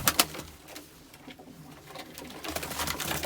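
Pigeons inside a coop, soft cooing and low fluttering murmurs mixed with a few sharp bursts of wing flapping, fairly faint and close, with no voices.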